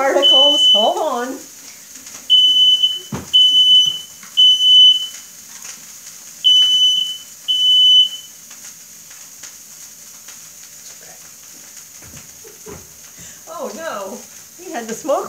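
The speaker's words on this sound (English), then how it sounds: "Had the smoke alarm go off." A kitchen smoke alarm sounds in repeated high, piercing beeps, some single and some paired, over the quiet sizzle of a hot frying pan, with a voice talking briefly before and after the beeping.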